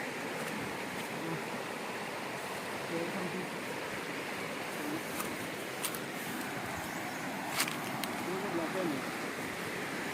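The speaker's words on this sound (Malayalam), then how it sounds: "അരുവി ഒഴുകി വരുന്നു." A forest stream in Wayanad rushes steadily in a continuous broad wash of flowing water, with faint occasional clicks and ticks over it.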